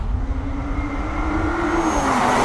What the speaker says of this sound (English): you can hear the whirring sound of the electric motor overlapping the howl from the quad pipe exhaust out back